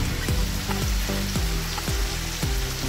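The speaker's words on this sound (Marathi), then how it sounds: "आपण त्यात फ्लावर जरा भाजून घ्या चांगलं मसाला।" Cauliflower frying with turmeric and spices in a pan for a flower-vatana bhaji, a steady close sizzle running throughout with repeated low thuds of stirring at regular intervals, no voices.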